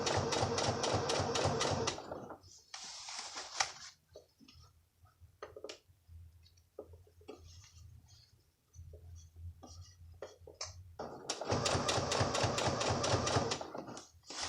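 A sewing machine stitches in the ditch along a waistband, fast rhythmic mechanical whirring in two loud bursts at the start and end, with quieter clicks and handling sounds and brief speech between.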